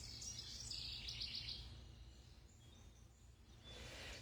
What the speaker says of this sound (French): Écoutez les oiseaux un matin.